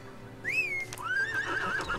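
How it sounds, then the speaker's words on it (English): A horse mount neighing in the video game Archeage: a single clear, near whinny that rises and then trails off in wavering tones, heard alone over a faint background. "On my boring, boring horse that isn't a Komodo dragon."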